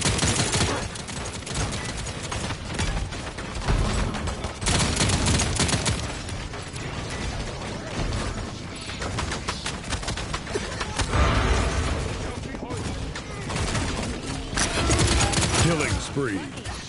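Enemy gunfire in the video game Paladins: a dense, continuous stream of rapid shots and impacts, loud and busy throughout, with some game voice and chatter mixed in.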